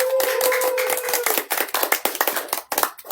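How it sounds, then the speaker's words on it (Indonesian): Hand clapping from a small group in a podcast studio, a brisk run of sharp claps with a steady tone sounding briefly at the start, then tapering into sparser, uneven claps. "Tepuk tangan yang meriah."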